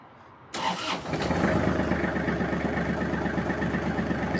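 A Kubota GL-21 Japanese mini tractor fitted with a rotary tiller cranks briefly and catches almost at once, then settles into a steady, even diesel idle that runs on close by with no voices.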